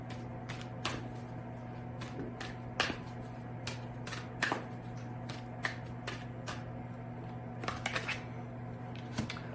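Oracle cards, a fairy oracle deck, shuffled in soft, irregular riffling bursts over a steady low hum, fairly faint and close, with no voices.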